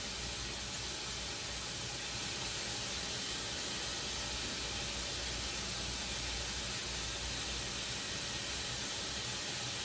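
Steady, dense sizzling hiss of Festival dough (Jamaican fried dumplings) frying in hot oil, continuous and fairly close, with no talking.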